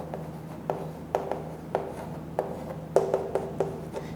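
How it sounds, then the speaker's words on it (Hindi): Pen scratching across paper while equations are written for a physics lesson on units and dimensions, a steady series of short strokes and taps, close and quiet with no voice. "तो फटाफट सबका लिख लेते हैं।"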